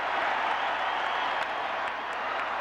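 The Fenway Park crowd at a Red Sox–Athletics playoff baseball game cheers and applauds in a steady, distant, diffuse roar with no individual voices standing out.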